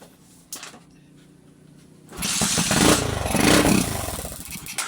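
A Euro125 motorcycle fitted with a battery-operated CDI converted from 6-pin to 4-pin starts up after a brief clatter, its engine catching and running loud and rough close by for several seconds.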